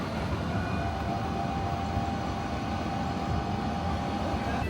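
A tuk-tuk ride in Phu Quoc, Vietnam: a steady engine drone and road rumble run continuously at close range, with a thin tonal whine on top and no speech.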